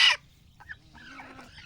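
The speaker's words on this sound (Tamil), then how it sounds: "இந்த கோழி" A brooding hen sitting on eggs gives a few soft, low clucks, quiet and close, after a brief sharp burst at the start.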